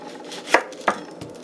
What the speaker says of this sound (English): we're gonna just chop these onions real quick